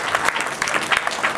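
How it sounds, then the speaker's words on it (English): An audience at a public speaking event applauds, giving a dense, continuous patter of clapping hands that carries steadily through the whole moment. "Give him a round of applause."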